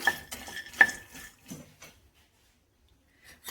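Dry fruits stirred in a dry pan over a medium gas flame, a few scraping and clinking strokes of a spoon against the pan that fade into near silence.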